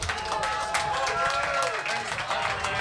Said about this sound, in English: Give it up, Colorblind moving on.